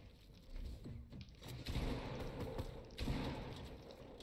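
Gunfire in a competitive shooter video game during a tournament match: bursts of sharp shots and thuds, with heavier volleys around the middle and near the end, over a steady background din.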